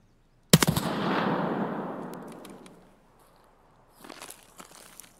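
Unsilenced gunfire in a video game: a sharp loud burst of rapid shots that decays into a long rumbling echo, then a quieter scatter of crunchy footstep-like sounds near the end.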